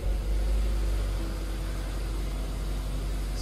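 A 2019 Volvo V40 T2 petrol engine settles into a steady low idle right after starting, a close, constant hum with a slight whine, heard alone with no voices.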